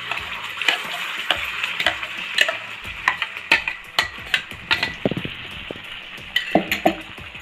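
Ground masala sizzles in a couple of spoons of hot oil while being stirred, with a continuous frying hiss broken by frequent sharp spoon-on-pan scrapes and taps, up close and without talk.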